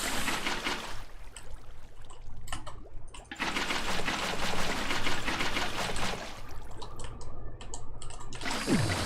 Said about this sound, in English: You can listen to the sound of water placement